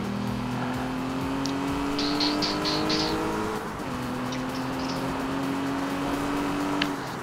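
Aston Martin Vanquish engine in the racing game Need for Speed Rivals: a steady, droning engine note held at high revs, briefly dipping mid-clip as it shifts, with faint tire squeals and no talk.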